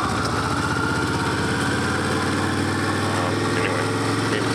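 A car engine hums steadily at close range while driving slowly through fallen leaves near a school during a U-turn, a continuous low drone with no talking.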